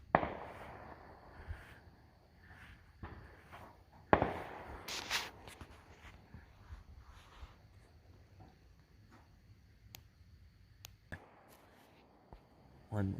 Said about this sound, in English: And we're watching fireworks.